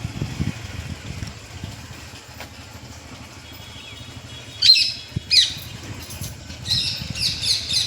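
Parrots squawk outdoors during light rain, a few sharp, harsh calls bursting out in quick succession over a quiet background of soft rain and distant murmur.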